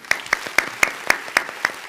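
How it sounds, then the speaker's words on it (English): Studio audience applause on a talk show, a sparse run of about eight distinct sharp claps at a fairly even rhythm, close and moderately loud with no talk over them. "I like the applause, guys."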